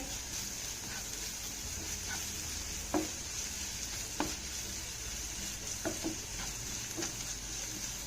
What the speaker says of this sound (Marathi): हे आलं आणि मीठ आपल्याला छान असं मिक्स करून घ्यायचं आहे